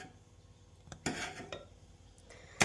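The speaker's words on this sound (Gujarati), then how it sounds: "ઉભરા નહીં જાય તેના માટે આપણે આવી રીતે મિક્સ કર્યા કરવાનું, હલાવ્યા કરવાનું" Milk heating to a boil in a pot for homemade paneer is stirred with a spoon, giving quiet bubbling under a few sharp metallic clinks and scrapes against the pot, no voices.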